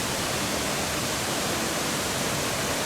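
Waterfall in Yucatan, Mexico, seen from the top of the main fall with smaller falls nearby: a steady, dense rush of water that holds one level throughout, with no voices.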